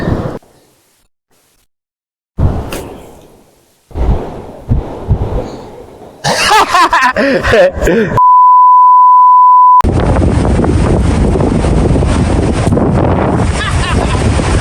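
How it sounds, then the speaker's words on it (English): Strong wind buffeting the microphone on a golf course, starting with bursts of gusty rumble, a brief steady electronic beep, then a loud continuous roar of wind noise to the end. "Bloody hard in this wind, I tell ya."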